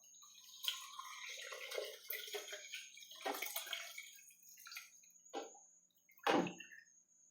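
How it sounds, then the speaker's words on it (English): Water pours and trickles from a pot in short uneven bursts, ending with a louder splash, close and fairly quiet. "I can pour it slowly because it's mostly water."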